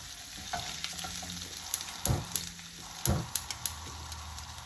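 Fennel seeds sizzle softly in hot oil for okra, with a quiet continuous crackle and a few sharper scrapes and knocks of a spoon as they are stirred, with no talking.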